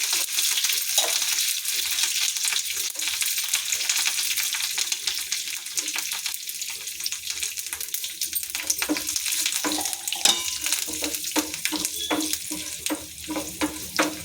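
Continuous close sizzling of dry red chillies frying in tempering oil, with scattered crackles and pops growing sharper toward the end, no talking.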